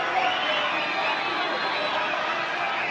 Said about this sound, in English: I hope his eardrums can take the cheering from the crowd on the bottom of this course